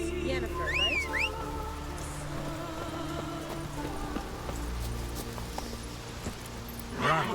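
The horse Roach clip-clops along at a run in The Witcher 3, steady hoof beats under ambient game sounds, with a brief whistle-like tone near the start.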